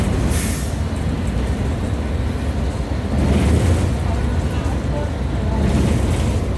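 A TNSTC Kovai Express bus runs at speed on the highway from Tiruchendur to Coimbatore, its cabin filled with a steady, loud low rumble and road roar that swells slightly midway and continues without a break.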